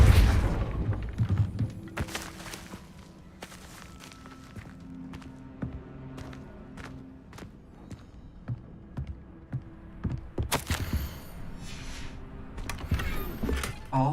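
Spell effects from Hogwarts Legacy, including the Depulso spell, come as sharp percussive hits and whooshes over a quiet background with low tones, and a burst of bright impacts lands near the end.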